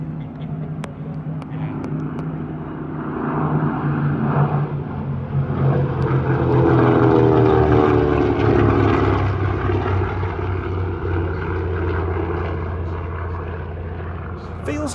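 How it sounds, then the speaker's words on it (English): Corsair and Avenger warbird aircraft fly past at the Wings Over Illawarra 2022 airshow, their piston engine drone swelling loud as they approach and fading away, with a person speaking over it. "the Corsair and Avenger."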